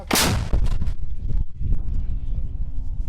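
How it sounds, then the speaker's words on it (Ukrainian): A single loud, close artillery gun blast on the Kharkiv front with a sharp crack, followed by a rumbling echo and lingering low reverberation outdoors. "Постріл."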